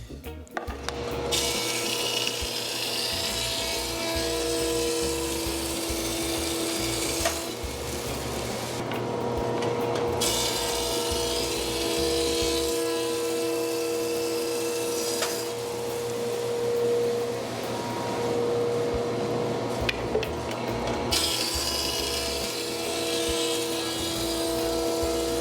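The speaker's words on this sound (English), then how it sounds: "I go to the planer and just keep running it through the same way and take a 1/4 inch off the top" A wood planer mills rough lumber, taking passes off the top of a board with a loud, steady machine drone and broadband cutting noise that runs almost continuously, shifting briefly as boards feed through.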